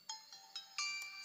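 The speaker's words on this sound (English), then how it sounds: "Ringtone." Ringtone from a Junsun K88H budget Bluetooth smartwatch: a short, bright electronic melody of four or five quick chiming notes, played alone and fairly quiet.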